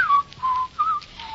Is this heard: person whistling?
yes